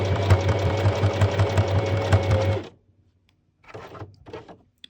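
Sewing machine stitching fabric for a small opossum plushie runs steadily for nearly three seconds with a rapid mechanical rhythm, then stops; two brief softer mechanical bursts follow after a pause.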